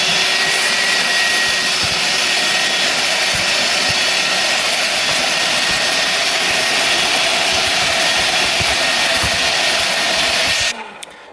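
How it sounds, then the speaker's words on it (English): A shop vac vacuuming up sand gives a loud, steady, high-pitched roar close by for about ten seconds, then cuts off as it powers down. "I'll go ahead and use this to vacuum the rest of this sand"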